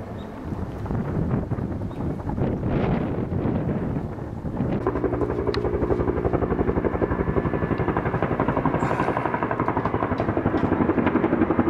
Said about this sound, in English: I can see him. That's a helicopter, isn't it